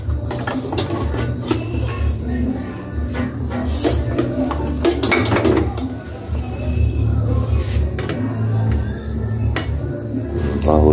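Dishes and cutlery clink while rice is spooned onto a lunch plate in a home kitchen, producing scattered close taps and scrapes over a steady background hum, with someone talking through it.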